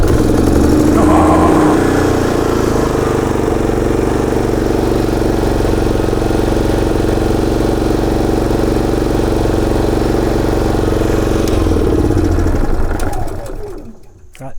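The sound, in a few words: portable generator running after automatic start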